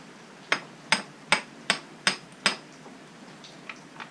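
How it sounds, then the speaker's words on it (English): A hammer tapping out the rear wheel axle of a KTM Duke or RC motorcycle, six sharp metallic knocks in an even rhythm, then a few fainter taps, close and clear with no talking. "I'm just going to tap that with a hammer on the other side."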